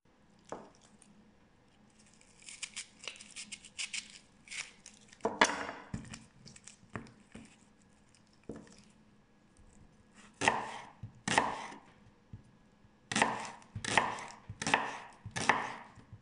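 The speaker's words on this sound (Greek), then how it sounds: "Κόβω τα πράσα στη μέση και τα ψιλοκόβω." Leeks, halved and then finely chopped with a knife on a cutting board for a mince pie filling, give bursts of rapid, close chopping taps separated by short pauses, with no voices.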